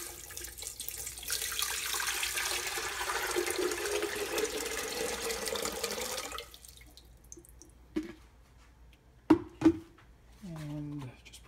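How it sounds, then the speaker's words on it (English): Water pours steadily into the receptacle of a Megahome heavy-duty countertop water distiller, a close hissing gush lasting about six seconds before it stops, followed by a few faint clinks and a voice. "pour the water into the receptacle"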